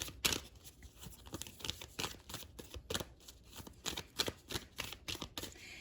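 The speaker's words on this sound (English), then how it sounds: "Let's pull some more oracle cards." Oracle cards are shuffled close by, giving soft, irregular riffling and flicking bursts with quiet gaps between them.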